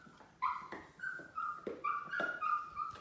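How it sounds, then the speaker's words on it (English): A dog whimpers and yips indoors in a series of short high whines, fairly near and moderately loud, with no talking. "it's really hard for her when the dog's making noise"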